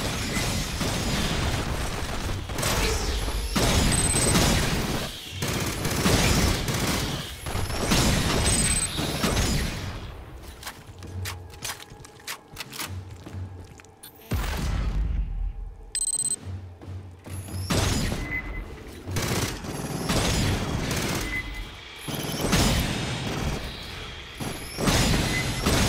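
Weapons fire loud and dense in the sci-fi shooter Aliens: Fireteam Elite, with rapid bursts and explosive blasts from Demolisher heavy weapons, a short lull midway, then more heavy shooting.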